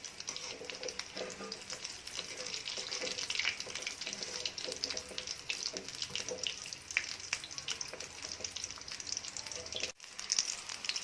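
Vada for Mumbai street-style vada pav sizzle steadily in hot oil over a full flame, a constant crackling hiss with occasional pops and stirring.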